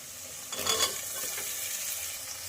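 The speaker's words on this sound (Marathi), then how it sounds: "टोमॅटो आणि बारीक चॉप केलेला कांदा घालून झालेला आहे छान परतून घ्यायचा आहे" Tomato and finely chopped onion stir-fried in a pan for spicy urad dal: a brief burst of sizzling and spatula scraping, then a steady soft frying hiss continues alone.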